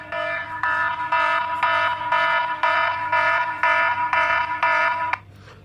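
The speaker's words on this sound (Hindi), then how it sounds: "तो इसमें अलार्म बज जाता है।" A phone's anti-touch alarm app sounds a loud electronic siren in rapid repeating pulses, about ten bursts, close by and alone, stopping abruptly near the end.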